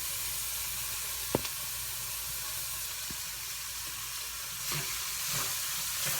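Rice frying in a pan for Spanish rice, with onions just added: a steady broadband sizzle throughout, broken by a couple of sharp utensil scrapes and clinks from stirring, fairly faint and close.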